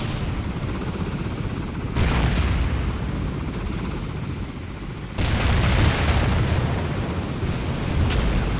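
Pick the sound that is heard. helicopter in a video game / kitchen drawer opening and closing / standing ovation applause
helicopter in a video game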